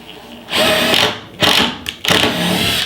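Bosch GDR 18V cordless impact driver sinking a Torx T20 screw into a board, heard as three loud, close bursts of whirring, rattling motor noise separated by short pauses.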